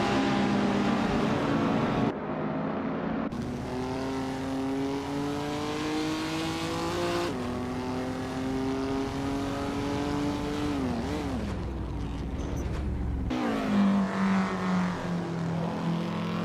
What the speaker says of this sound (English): The cars are already jostling for position as they head into the first few corners.